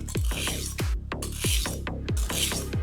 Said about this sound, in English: you drag the knife towards yourself, keeping a consistent angle